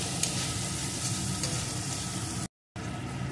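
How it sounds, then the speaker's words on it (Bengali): Cumin-ginger paste and dry red chili powder frying in a pan, a dense continuous close sizzle with faint stirring, cut by a brief silent gap before the sizzle resumes. "এই মশলাগুলোকে একটু ভালো করে কষিয়ে নেব।"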